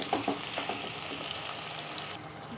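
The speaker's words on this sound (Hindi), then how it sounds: "अब इसे थोड़ा तेज़ आंच पे मैं फ्राई करूंगी।" Beef frying over high heat in a pan with garlic and ginger, a steady close sizzle and crackle with a few brief stirring knocks, then cutting to a quieter hiss near the end.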